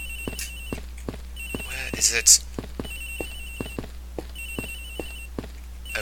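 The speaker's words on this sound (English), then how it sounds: "Agent Hicks's phone, it's ringing from somewhere, sir." A phone rings in the Ace Attorney Investigations video game, a series of short, evenly spaced electronic rings. A voice speaks briefly partway through, with a few soft ticks around it.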